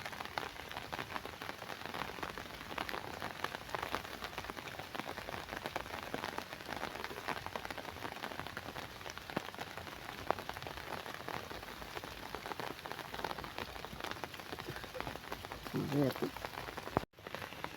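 Heavy monsoon rain pours down at a home in Kasaragod district, Kerala, a dense, steady hiss of drops on surfaces that continues unbroken throughout, with a brief clunk near the end.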